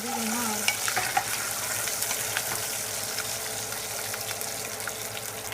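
Garlic and onion fry in sesame oil for a coconut-free kara kuzhambu, giving a steady, close crackling sizzle with occasional stirring scrapes throughout.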